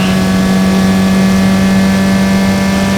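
Single-seater race cars at Mid-Ohio, among them a Lola T598, make a loud, steady engine drone with a strong sustained tone, running continuously without pause.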